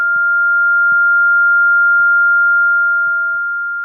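A steady pure sine tone simulating tinnitus ringing in the ears, with a second lower tone that drops away near the end, accompanied by faint soft thumps.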